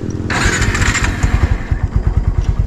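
A repaired motorcycle engine cranks and catches, then settles into a loud, close, steady idle with a rhythmic lumpy pulse.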